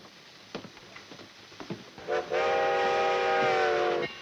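A train pulls into a station. Faint clanks and rattles come first, then a loud, sustained train whistle holds for about two seconds close by, with no talking.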